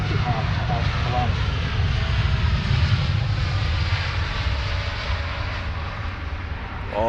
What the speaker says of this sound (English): Just behind us we have the Dreamliner, Etihad about to land.